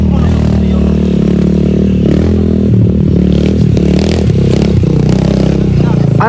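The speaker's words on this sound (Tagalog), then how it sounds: "Naririnig ko na yung motor dito." A motorcycle engine runs steadily nearby on a rough road, a loud continuous drone with some rattling and scraping, while people talk over it.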